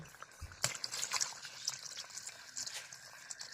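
Water poured into a simmering potato and glass carp curry in a pot, a brief splash followed by soft trickling, quiet and close, with a person speaking over it.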